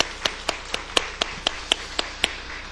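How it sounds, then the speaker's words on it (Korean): Rhythmic clapping during a Korean Easter church service, about ten sharp, evenly spaced claps in a steady beat, close and distinct, no voices. "우리를 위하여 부활하여 주신 주님께 영광의 박수를 먼저 하나님 앞에 올려드리겠습니다"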